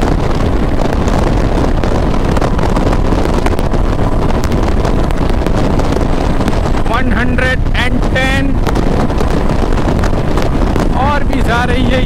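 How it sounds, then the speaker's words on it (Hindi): A 2021 Royal Enfield Classic 350 motorcycle cruising at about 100 km/h, with heavy wind rush buffeting the microphone over a steady engine drone, while a rider speaks intermittently. "ये 100 पे पहुंच चुकी है बाइक, और भी अभी ये तेज चलने की कोशिश कर रही है।"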